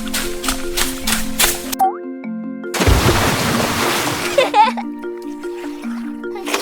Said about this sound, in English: Stop splashing